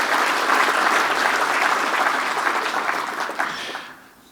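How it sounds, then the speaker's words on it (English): Guests at a state budget lunch give a round of applause, loud, dense clapping from a large room that holds steady for several seconds before tapering off at the end. "Big round of applause for Mel."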